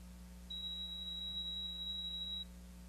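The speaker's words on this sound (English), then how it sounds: "When all the moisture is removed, the display will stop counting and you will hear a beep" A Karl Fischer moisture analyzer gives a single clean, high-pitched beep lasting about two seconds once its count stops. The tone is clear over a low steady mains hum.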